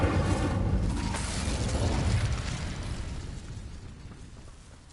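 Casting the Incendio fire spell in the game Hogwarts Legacy unleashes a loud, roaring burst of flame that starts at full force and slowly fades away over several seconds, with no speech.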